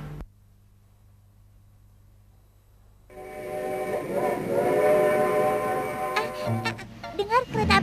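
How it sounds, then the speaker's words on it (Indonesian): After a quiet stretch, a train starts up with a rumbling, wheezing roar and a whistle-like tone, as low voices and clatter come in near the end. "Dengar, kereta apinya sudah mau berangkat."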